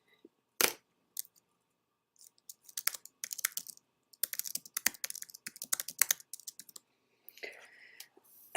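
A computer keyboard is typed on in scattered bursts of crisp, close key clicks with brief pauses between words, fairly quiet in an otherwise silent room.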